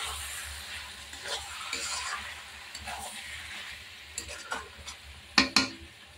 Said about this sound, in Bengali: আমি এর মধ্যে মাংসটা দিয়ে দেব। ভালো করে নাড়াচাড়া করে নেব।